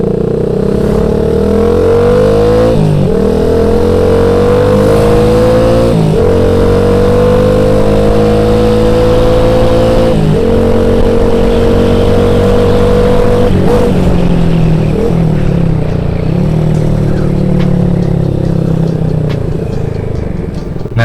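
A motorcycle fitted with a DB killer exhaust in street mode revs repeatedly up close, loud throaty blips rising and falling over a steady idle, with several sharp throttle bursts across the run.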